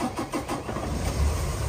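A 2019 Peterbilt 579 truck engine starting: a few rapid cranking pulses, then it catches into a loud, low, rumbling idle, recorded up close.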